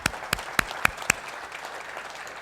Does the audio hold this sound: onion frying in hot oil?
no